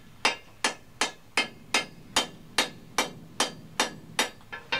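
Hot metal for a survival froe is hammered around the horn of an anvil, ringing in a steady series of about eleven sharp, evenly spaced blows, loud and close with no talking.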